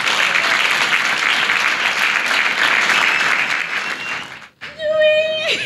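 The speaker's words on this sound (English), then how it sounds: "Clap your hands for Jesus Christ for this wonderful miracle." A church congregation clapping hands in praise, loud sustained applause for over four seconds that breaks off, followed by a brief voice.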